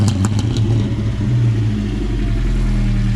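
A Volvo 945 with a side-exit exhaust revs hard nearby, a loud, steady low engine drone that holds throughout without pause.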